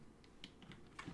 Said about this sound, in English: you fighting your keyboard?